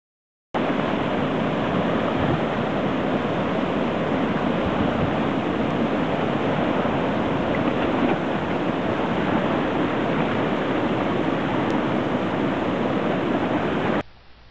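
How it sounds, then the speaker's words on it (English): Small river rapids rush in the Grand Canyon at the mouth of Escalante Creek, a dense, continuous roar of water heard close and loud throughout, with no voices. "A private group of small rafts ran the small rapids in front of our campsite."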